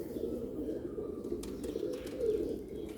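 Sialkoti pigeons cooing: soft, steady low coos running throughout, close by, with a faint chirp or two over them.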